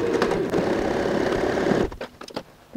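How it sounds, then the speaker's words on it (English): Sewing machine sewing a dart in fabric hums with a rapid, steady stitching whir for about two seconds, then stops, leaving a few soft handling clicks and taps. "we're going to go and sew from here till the edge of the fabric"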